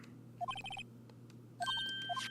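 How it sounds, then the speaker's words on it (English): The Steel Samurai theme plays as a phone ringtone in the Phoenix Wright: Ace Attorney video game. Two short bursts of a bright, beeping electronic melody sound over a low steady hum, with a gap between them. "And now that song your phone plays when it rings."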